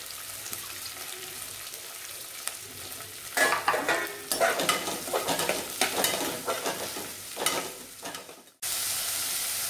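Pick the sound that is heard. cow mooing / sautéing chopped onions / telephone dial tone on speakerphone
sautéing chopped onions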